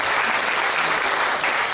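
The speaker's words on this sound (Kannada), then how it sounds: "ಆ ತಂದೆ ತಾಯಿಗಳಿಗೆ ಒಂದು ಚಪ್ಪಾಳೆ ಕೊಡಿ." Applause from an audience honoring the parents, a dense, steady wash of many hands clapping that continues evenly throughout, without any voices standing out.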